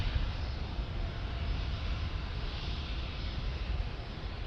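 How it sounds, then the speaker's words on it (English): Low, steady roar of a United States Marine Corps aircraft flyover above a San Diego ballpark at night, a broad continuous rumble holding at constant strength throughout with no talk. "United States Marine Corps flyover on the Padres."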